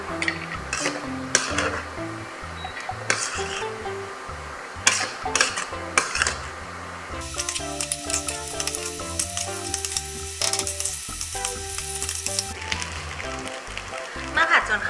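Kimchi fried rice with soy sauce being stir-fried in a pan, a steady sizzle with scraping and stirring clatter, while background music plays and someone talks over it.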